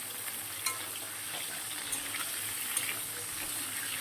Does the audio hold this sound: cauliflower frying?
yes